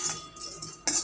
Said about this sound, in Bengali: একটু শুকনো কড়াইয়ে আমি নেড়ে চেড়ে পেস্টটাকে তৈরি করে নেব।